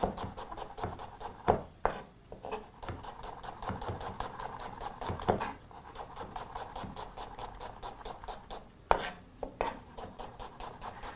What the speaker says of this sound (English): grabbing your red onions and chop those into some half moon shapes very, very quickly